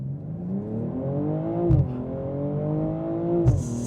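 A BMW M240i xDrive coupe in sport mode accelerates hard from a standstill to 60 with automatic shifts. Its engine note climbs steadily and loudly, and two brief shift breaks cut the rising pitch before it climbs again.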